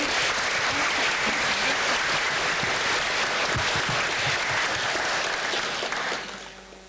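A theater audience at a grade 5 transition ceremony gives a piano player a sustained round of applause, a steady wash of clapping that holds for about six seconds and then fades as it dies down.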